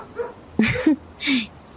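A dog whimpers and gives short yipping barks, close and loud, three quick vocal bursts within a couple of seconds.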